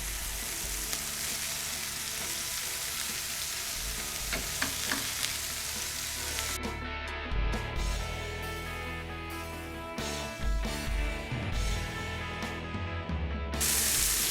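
Sandwich filling browns in olive oil in a hot pan, a continuous close sizzle and crackle that dips and thins partway through before flaring back up, with no voices over it.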